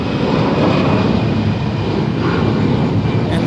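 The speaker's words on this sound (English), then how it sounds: "There's Alaska Airlines 881 departing to Seattle, Tacoma" A nine-year-old Alaska Airlines A320 taking off from runway 25 right at LAX, its engines giving a loud, steady broadband roar that holds constant throughout.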